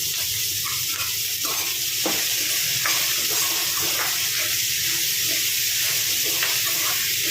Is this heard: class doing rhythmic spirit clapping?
no